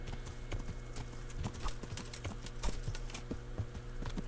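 Horse hooves clip-clop in a steady rhythmic gait in the medieval video game Kingdom Come Deliverance, clear and continuous over a low ambient background.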